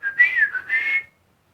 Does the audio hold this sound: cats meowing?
no